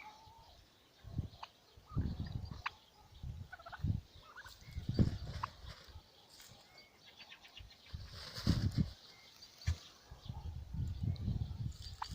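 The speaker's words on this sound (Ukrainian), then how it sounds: "Основний, основний індик також наближається ближче." Several turkeys gobble in bursts while dust bathing, some close and some farther off, with rustling and faint bird sounds between the calls.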